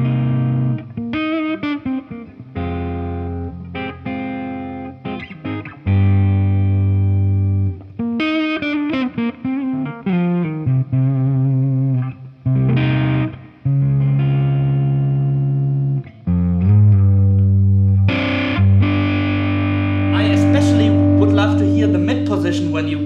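A Gibson electric guitar played through a high-gain amp rings out in distorted chords and sustained notes, loud and close with pauses between phrases and a brighter, denser strum near the end.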